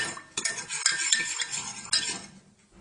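A spoon stirring milk and sugar in a cup, close metallic scraping and clinking against the sides in quick uneven strokes, with no one speaking.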